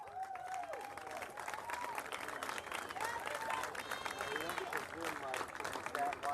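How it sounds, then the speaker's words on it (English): Crowd applause at a Little League regional tournament opening ceremony, a broad wash of clapping with some cheering, moderately distant, with a voice and other sounds mixed in. "Let's give these teams a big round of applause."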